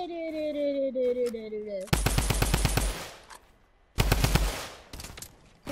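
Enemy gunfire in a shooter video game: two long, loud bursts of rapid automatic fire with a pause between them, a falling tone just before the first burst and a voice speaking briefly.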